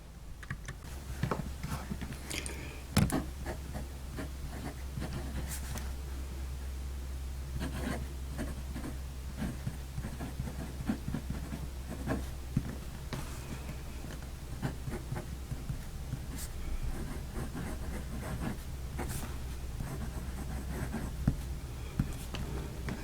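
A fountain pen nib scratches across paper in short, soft strokes, faint and close, with light rustling and no talking.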